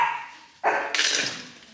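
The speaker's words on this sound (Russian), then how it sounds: "Чего ты гавкаешь?" A dog gives a sharp bark followed by a second, higher yelp in quick succession, close and fairly loud after a brief quiet moment indoors.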